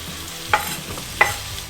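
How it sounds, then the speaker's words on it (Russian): Sliced onion stirred through caramelized sugar in a frying pan gives a low, steady sizzle, with two sharp scraping clicks from the stirring. "пока он станет карамелью, и всыпаем лук"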